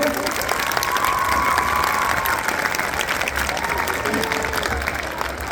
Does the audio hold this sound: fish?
no